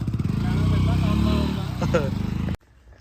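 A motorcycle ridden in a Punjabi village, its engine droning steadily close by with wind noise and someone speaking over it, then cutting off abruptly near the end.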